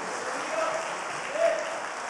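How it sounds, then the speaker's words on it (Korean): A congregation claps together during a Sunday evening revival service at a Korean church, a sustained, even patter of many hands filling the room, with a faint voice briefly rising over it. "주님께 영광의 박수 올려드리고 시작하겠습니다"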